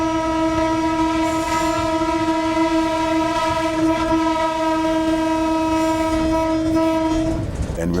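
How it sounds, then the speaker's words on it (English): A train whistle blows one long, steady, loud blast with rich harmonic tones, sustained for several seconds before cutting off abruptly. "Passengers on the train reported hearing 3 blasts from the train whistle."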